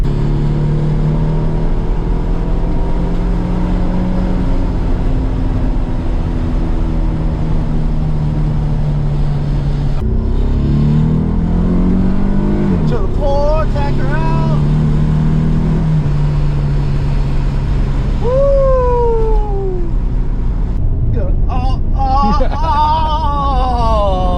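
A Nissan 300ZX with a new L3 Racing intake revs and accelerates on the road, its engine note droning loud and close, rising and falling through gear changes, with occasional whoops and chatter from people inside the car.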